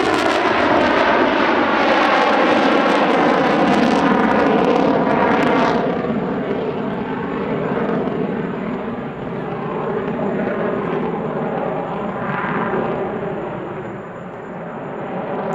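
A US Air Force F-35 fighter flies an air show display at the Dubai Airshow, a loud, rumbling jet roar with sweeping pitch shifts that swells, fades and surges again across the pass.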